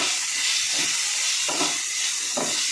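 Ginger, capsicum, onion and chilli fry in a pan over low to medium gas, a continuous loud sizzling hiss with faint soft stirring knocks underneath.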